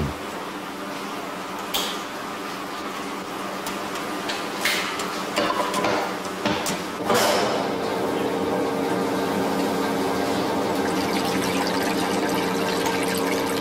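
Fresh Beaujolais grape juice runs steadily from a modern wine press, a continuous wet rushing and gurgling flow with a few louder knocks and splashes near the start.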